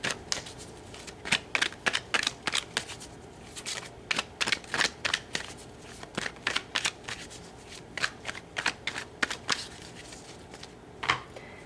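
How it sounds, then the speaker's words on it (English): Tarot cards are shuffled by hand in a close, steady run of crisp riffling bursts and soft slaps, repeating for about twelve seconds with no talking. "So let's pull some more cards."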